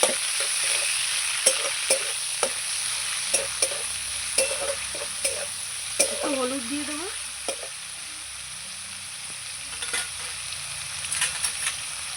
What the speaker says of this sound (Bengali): চিকেনটা একটু ভালো করে ভেজে নেব